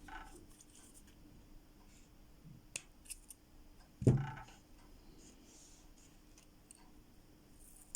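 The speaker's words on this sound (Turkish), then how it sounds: "Evet, mümesini keseceğim." Scissors snip the thread of a seed bead tassel: one crisp, close cut midway through, with only faint handling ticks before it in a quiet room.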